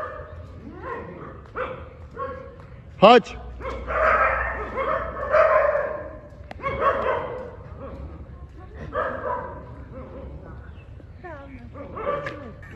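Several dogs bark and yip at each other at a party, with sharp, repeated barks and whimpers close by, broken up by people shouting over them.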